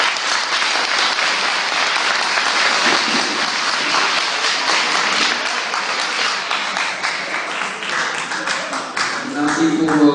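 An audience applauds after a speech at a leadership contest semi-final, dense sustained clapping from a large crowd, loud and close for about ten seconds with a voice starting to speak near the end.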